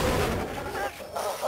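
Vengeance Cannon shots in a video game, a dense burst of booming artillery-like blasts filling the short stretch, loud and continuous with slight dips.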